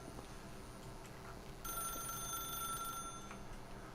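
Telephone ringing in The Stanley Parable video game, a faint electronic bell tone starting partway through over a quiet, steady room hiss.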